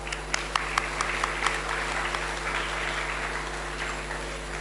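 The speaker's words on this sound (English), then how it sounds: "A huge round of applause for ma'am." Audience applause for a speaker at a corporate event, a few distinct sharp claps early on over a thin, fairly faint patter of clapping, with a steady electrical hum underneath.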